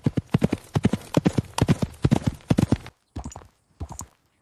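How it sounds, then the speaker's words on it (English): A horse carrying a messenger along a road, hooves clip-clopping in a quick, loud, even rhythm that breaks off briefly before a few more fainter steps. "The horse carries him away."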